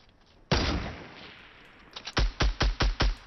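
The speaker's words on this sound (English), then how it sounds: "there's a guy with the minigun" Gunfire in Fortnite: one loud shot with a long decaying tail, then a rapid run of six close, evenly spaced heavy bursts.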